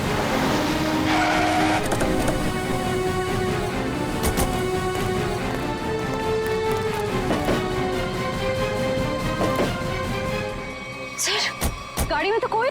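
A car accelerating hard and driving away, a loud engine roar with rising and falling revs and a tire screech near the end, under loud dramatic music and voices.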